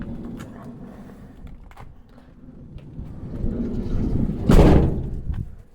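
A Renault Master van's sliding door, fitted with repaired rollers, rolls open in one loud burst near the end, following quieter clunks and handling noises at close range.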